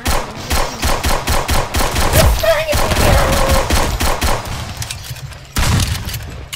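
Rapid bursts of gunfire in the Roblox game Robber rattle almost continuously, loud and close, with a brief voice speaking partway through.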